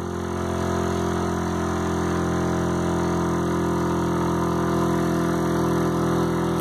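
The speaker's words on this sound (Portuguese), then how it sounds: "Esse é o efeito incomum, anomalia do motor Adams." A homemade Adams pulse motor spins at about 2600 RPM, giving a steady, even hum with a constant high whine, unbroken for several seconds and with no talk.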